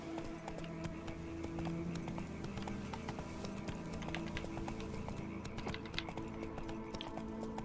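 Geralt's horse Roach in The Witcher 3 trots with steady clip-clop hoofbeats that run the whole time, faint and even, over a low game background hum, with no voices.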